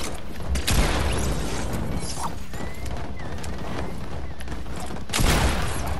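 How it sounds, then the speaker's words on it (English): Gunfire in the Fortnite video game, a continuous clatter of shots and mechanical impacts, fairly loud, with a couple of sharper louder bursts near the start and end and faint voices in the mix. "Why are they shooting each other?"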